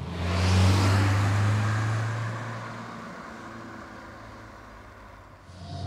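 A 1990 Fiat Uno Turbo's 1.4-litre, 118-horsepower engine hums and rumbles close by, swelling briefly as it revs, then settling into a steady, lower drone.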